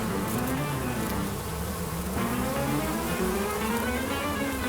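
A steady, close insect buzz drones on without a break, like a swarm of bees humming around.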